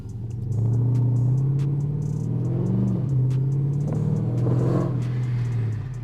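A supercharged Chrysler 300C with a 3-inch catless X-pipe exhaust drones steadily from inside the cabin, with a low, raspy tone that swells and dips slightly as the car cruises.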